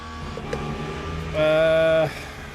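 A Porsche race car engine in Le Mans Ultimate drones steadily, then a louder, brighter tonal whine swells in for about a second before dropping back to the lower hum, with no talk.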